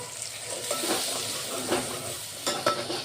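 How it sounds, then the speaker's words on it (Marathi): Magic masala, cumin powder, coriander powder, kasuri methi and salt cooking in hot oil in a pan, a soft hiss with stirring scrapes and a few louder clinks toward the end. "एक मिनटं हे मसाले आपल्याला होऊ द्यायचं आहे तेलामध्ये शिजू द्यायचं आहे"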